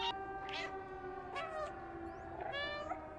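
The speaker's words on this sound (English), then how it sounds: "I'm just gonna spam the meow button at him." A cat in the video game Stray gives three or four short, clear meows spaced about a second apart, close and alone over a quiet background hum.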